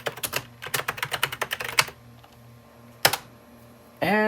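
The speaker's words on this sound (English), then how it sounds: "I had a little bit of trouble typing in the product key" Someone types a product key on a computer keyboard while reinstalling Windows 2000 Server on an Intel Compaq machine: a quick run of close, crisp keystrokes, a pause, one more clack, then a rising electronic tone.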